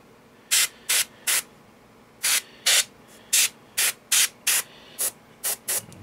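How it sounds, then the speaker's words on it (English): Short bursts of aerosol spray lay a dry mud effect onto a model vehicle, about a dozen sharp hissing puffs in an irregular rhythm, close and loud against near silence. "Just let it spray and let it settle itself."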